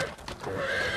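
Draft horses neigh in a short, loud whinny with faint hoof clip-clops in a street setting, a brief burst without voices.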